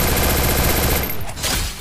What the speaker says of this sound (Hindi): फिर से पीछे से गोलियां चल रही है